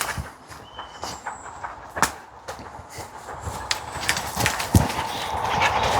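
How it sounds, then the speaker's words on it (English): A train runs along an old railway line through the countryside, heard faintly at a distance as a building rumble with scattered clicks and knocks from the rails, amid outdoor rustling. "There comes the train."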